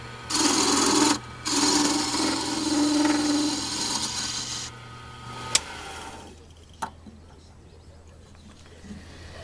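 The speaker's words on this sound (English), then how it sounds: "I'll use a straight parting tool to bring this in." A straight parting tool cuts horn on a lathe, giving loud harsh scraping bursts for several seconds. A brief break interrupts them before they fade into a quiet hum with a few light knocks.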